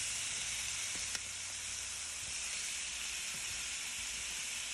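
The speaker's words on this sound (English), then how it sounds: "You just let the curry burn for about 2 minutes and you're good to go." Curry paste frying with garlic in a pan while Jamaican curry chicken is prepared, giving a steady close sizzle and hiss that runs unbroken throughout, with a single faint tap and no talking.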